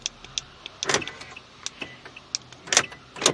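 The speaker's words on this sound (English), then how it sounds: "you can hear the locks moving" Door locks of a Toyota Corolla actuating from a new smart key: a rapid series of sharp mechanical clicks and thunks, close and crisp in a quiet car interior.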